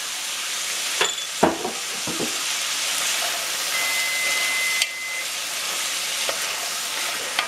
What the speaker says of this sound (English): I'm going to stir this around. Then I'm going to add the beans. There go the drained beans.